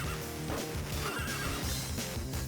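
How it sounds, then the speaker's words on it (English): Horses neigh and whinny repeatedly among a group of riders in the western shooter game A Fistful of Gun, with faint hoof clip-clops under a continuous game soundscape. "Here's a lot of guys on horses."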